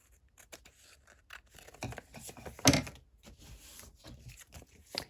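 Scissors snip off a small piece of a handmade paper pocket insert for a junk journal, with a few quiet, crisp cuts and paper rustles, loudest one near the middle, with no talk over them.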